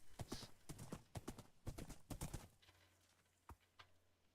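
Horse hooves clip-clop in the Minecraft video game, a quick run of crisp, close hoofbeats that stops partway through, followed by a few scattered single steps over a low hum.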